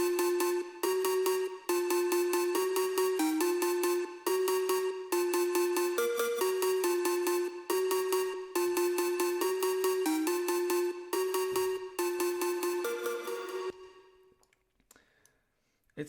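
A layered synth melody built from two one-shot synth sounds, a weird tone stacked with a very aggressive one, plays the break of an electronic track in short repeated phrases, loud and steady, then fades out near the end.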